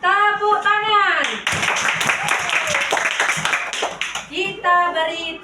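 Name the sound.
students clapping hands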